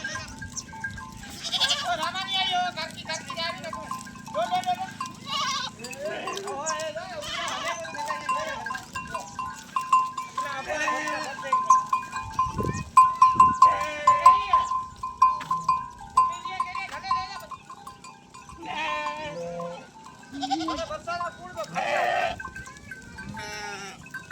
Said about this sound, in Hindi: ये जो आ रही है माशाल्लाह बहुत ज़बरदस्त बकरी है